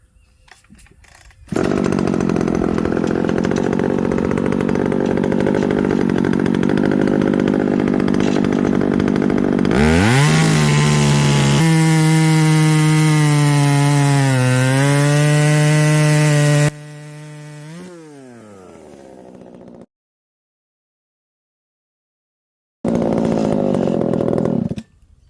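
A Husqvarna 372 XP chainsaw on a Holzfforma mill cuts through silky oak with a loud, sustained roar. Its pitch dips and rises as it bogs and revs under load, then it idles down and stops briefly before roaring again.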